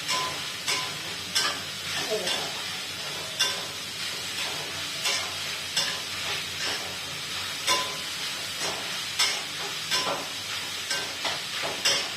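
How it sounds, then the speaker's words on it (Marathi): Grated carrots stirred in ghee in a pan for traditional carrot halwa, a sweet made to keep four to five days: steady sizzling hiss broken by regular scraping stir strokes roughly every second, close and fairly loud. "गाजर टाकायचंय त्याच्यावर आपल्याला हे छान असं परतवून घ्यायचंय"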